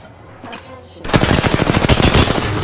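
Rapid automatic gunfire in Apex Legends, a loud burst of fast, evenly spaced shots starting abruptly after a quieter second and continuing to the end.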